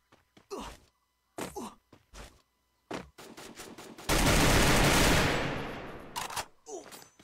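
An M4 rifle in Free Fire fires a sustained burst of about two seconds, loud and dense, tapering off. Short spoken phrases come before and after it.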